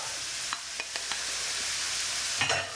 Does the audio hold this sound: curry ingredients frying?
yes